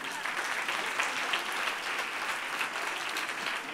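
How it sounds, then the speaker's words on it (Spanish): An audience at a children's reading-voice contest applauds for a young participant, a steady, dense round of clapping from a moderately distant crowd lasting throughout, with no talk over it. "Un aplauso, Ethan."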